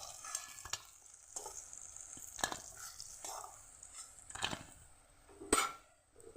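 Teasel gourd slices coated in gram flour batter fry in a pan with a soft, steady sizzle, broken by a few sharp clinks and scrapes of a utensil against the pan; no talking.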